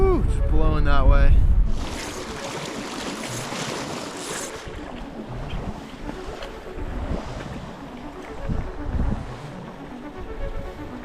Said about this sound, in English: The wind keeps getting colder and colder, and it's starting to blow more.